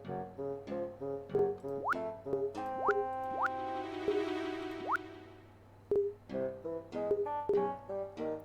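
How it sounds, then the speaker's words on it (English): Quirky electronic video game clown tune with plinking notes and rising slide whistle swoops, playful and cartoonish, playing on its own at moderate volume. "Is this bad clown music too loud?"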